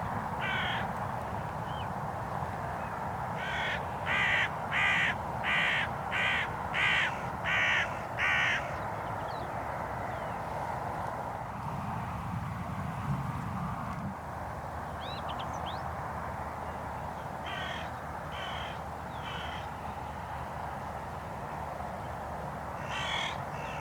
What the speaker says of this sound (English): 3 hooded crows dropped in.